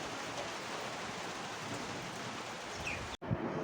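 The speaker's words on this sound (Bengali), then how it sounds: "হঠাৎ করে বৃষ্টি" Sudden rain pouring down, a dense, even wash of noise close by that holds steadily before a brief cut near the end, with no voices.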